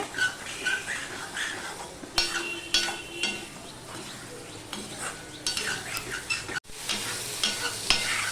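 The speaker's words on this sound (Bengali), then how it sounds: "এবার দিয়ে দিচ্ছি টমেটোটুকু দিয়ে সমস্ত কিছু আমি ভালো করে কষিয়ে নেব" Spices and tomato sizzle in a hot pan while a utensil stirs and scrapes through them, producing a soft steady frying hiss broken by repeated close scraping strokes and light clinks.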